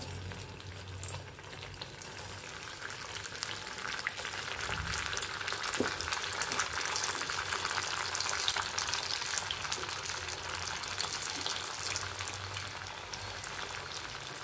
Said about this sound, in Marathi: आता आपण वड्या तळून घेऊया।